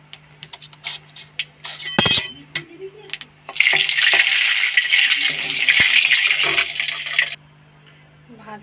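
Mustard seeds and dried red chillies hit hot oil in a home kitchen: a few clinks and brief murmurs come first, then a loud, crackling sizzle flares up and holds for several seconds before cutting off abruptly.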